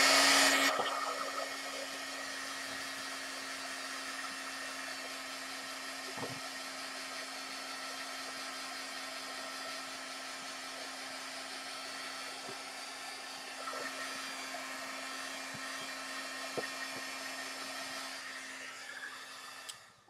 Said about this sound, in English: I'm just going to take my heat gun and just heat it up just a little bit to make sure it's dry